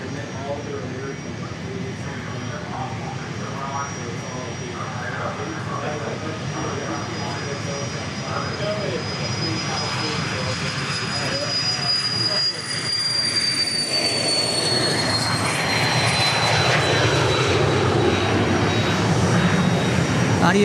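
An Embraer Phenom 100 small jet taxis at Dallas Love Field, giving a loud, continuous turbine whine with a high-pitched tone that drifts and builds. Voices talk underneath it.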